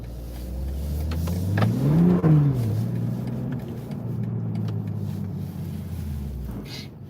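A BMW engine revving to pull free of a snowdrift, close and loud, with the pitch rising to a peak, dropping back, then holding a steady drone before easing off.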